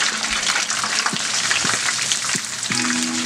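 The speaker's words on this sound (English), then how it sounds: "Hear the sizzle?" Korean corn dogs sizzling in hot frying oil, a loud, dense, continuous crackle and hiss with scattered pops and bubbling throughout, close up and with no talking.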